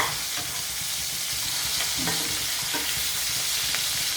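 Pieces of hilsa fish fry in a pan of hot oil with a constant loud sizzle, and a utensil stirs and scrapes a few times. No one speaks.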